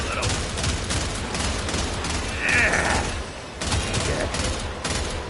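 Rapid gunfire in the video game Warframe, a steady rattle of shots with mechanical clanks running under a continuous game soundscape, fairly loud throughout.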